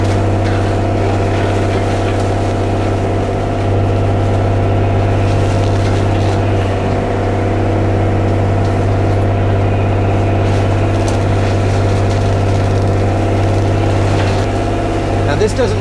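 A Bobcat E35 mini excavator's diesel engine runs steadily from inside the cab while clearing overgrown vines, a loud continuous drone with strong low hum and faint clatter over it.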